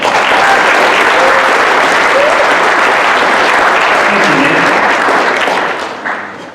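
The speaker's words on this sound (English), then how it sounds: "So please give them a round of applause" Audience at a Detroit blockchain and fintech pitch event applauds a sponsor team, dense steady clapping filling the room at full strength before tapering off near the end.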